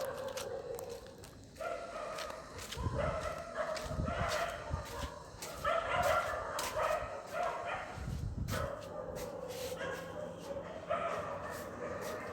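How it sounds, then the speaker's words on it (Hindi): Several dogs bark nearby in short, loud bursts, with a few sharp yips and whimpers, over a steady background and some indistinct voices. "ये कुत्ते भौंक रहे"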